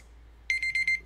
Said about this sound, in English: So I'm letting the buzzer run out.